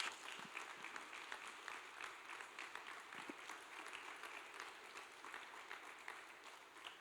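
A church congregation at a Sunday service claps in sustained, even applause, heard quietly and from some distance across the room.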